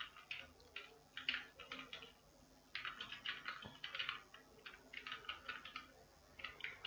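Typing on a computer keyboard while writing a heading during an HTML lesson, quiet bursts of rapid key clicks with short pauses between them, close but faint, with no talking.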